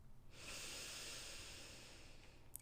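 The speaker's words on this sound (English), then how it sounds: "take a big, full inhale" One long, deep inhale through the nose, heard close and quiet as a steady airy hiss that lasts about two seconds, followed by a brief soft rustle.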